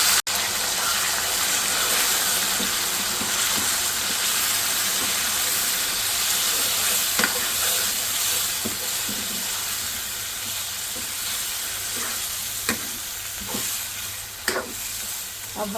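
Chicken keema sizzles and fries in hot oil in a pan, a continuous loud crackling hiss with occasional sharp pops and stirring scrapes, with no talk over it.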